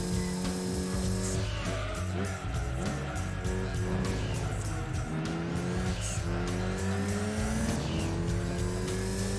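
An Evo VI RS races in Gran Turismo 2, its engine droning loudly and steadily while the pitch rises and falls with gear changes and tires squeal through the corners.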